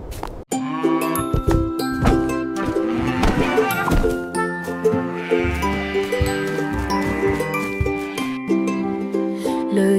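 Several sheep bleat repeatedly and loudly in a children's nursery rhyme song, over a bouncy tune with chiming bells, layered in a busy, musical rhythm.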